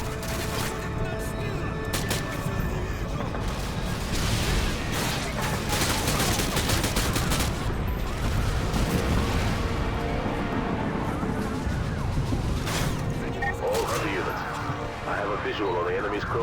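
Dense, continuous combat in Call of Duty Modern Warfare 2, with heavy shotgun blasts and other gunfire, explosions and mechanical clatter layered together, under steady talking.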